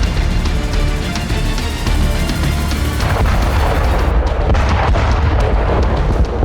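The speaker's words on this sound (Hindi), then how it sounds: "बिल्डिंग में घुसने से पहले एक जोरदार धमाका होता है" A loud, dense blast rumbles through war footage of a drone strike on Russian soldiers entering a building in Ukraine, with low booming and crackling debris continuing steadily throughout.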